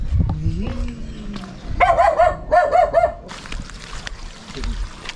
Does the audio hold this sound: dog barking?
yes